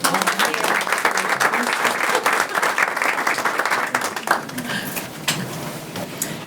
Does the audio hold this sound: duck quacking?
no